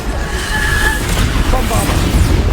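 Booming spell blasts in the Hogwarts Legacy video game, a dense rumbling explosion that stays loud and continuous throughout, with spoken spell words layered over it.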